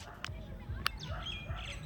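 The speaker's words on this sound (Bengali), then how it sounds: "এই যে বন্ধুরা দেখুন এক পেয়ার কালশিরা আন্ধ্রা লাইনের কবুতর আছে" A pair of Kalshira Andhra-line pigeons give short squawks and calls, close by, over low murmuring and rustling in a loft, with a faint voice nearby.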